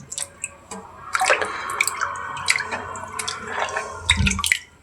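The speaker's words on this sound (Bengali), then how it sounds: "এখন এই যে মাংসগুলো ধুয়ে নেব।" Pieces of broiler chicken meat washed under running water, with splashing, dripping and handling of the wet meat in close, uneven bursts; no talk.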